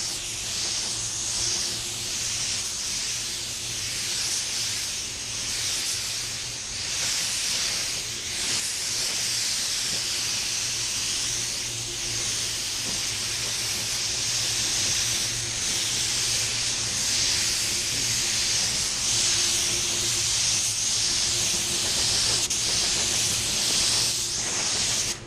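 A spray gun lays clear coat onto a Cadillac door panel, giving a steady, loud, unbroken hiss with a faint mechanical hum beneath. It runs alone for about twenty-five seconds with no pauses.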